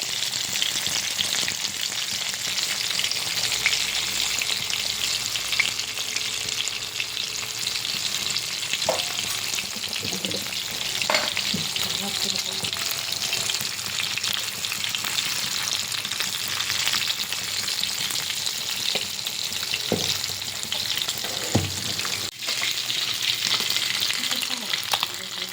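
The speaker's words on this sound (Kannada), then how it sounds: "ಇದೆಲ್ಲ ಚಲೋ ಫ್ರೈ ಮಾಡ್ಯಾರ. ಚಲೋ ಫ್ರೈ ಮಾಡ್ಕೋಬೇಕು ನೋಡ್ರಿ." Chicken fries in a pan and is turned over now and then, a continuous loud sizzle running throughout with sporadic knocks and scrapes of the spatula.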